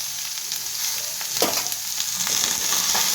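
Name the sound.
stirring a diet dish frying in a pan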